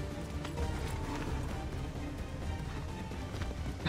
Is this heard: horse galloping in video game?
yes